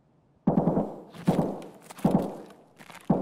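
Four separate muffled gunshots from a raid in a video game, heavy thuds fired in short bursts at roughly even spacing, sounding distant, as if from the floor above.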